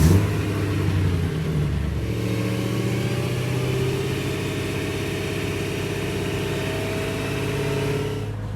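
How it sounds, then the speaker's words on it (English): A BMW E90 M3 V8 engine held at a steady 2000 RPM during a DCT transmission fluid change, a continuous even drone with a brief higher rev at the start, close and alone. "we revved the engine for a minute"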